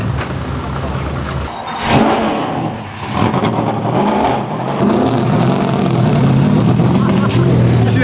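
Loud NASCAR race car engine revving and roaring up close while driving on a road through a construction zone, the exhaust swelling and dipping before holding a strong steady drone, with a voice exclaiming over it.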